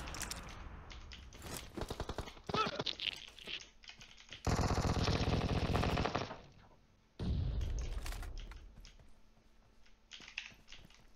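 Automatic weapon fire in PUBG Mobile, with rapid bursts and one long sustained volley of dense, loud shots, broken by short pauses and scattered single rounds.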